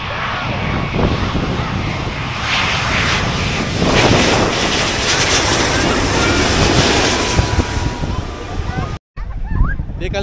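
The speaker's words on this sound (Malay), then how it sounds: "Kapal terbang sampai." A low-flying airplane comes in to land directly overhead near the road on a drive from Johor to Phuket, its engines roaring loud and steady for about nine seconds in a broad, rushing drone before cutting off abruptly.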